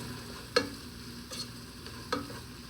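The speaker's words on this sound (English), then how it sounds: "I'm just going to throw that onto that okra. Okay. Stir that in." Seasoned salt being stirred into okra frying in a pan, a few sharp scraping strokes of the spoon over a steady low sizzle, close and moderately quiet.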